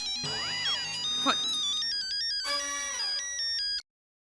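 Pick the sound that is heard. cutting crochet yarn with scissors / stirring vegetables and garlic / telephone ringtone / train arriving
telephone ringtone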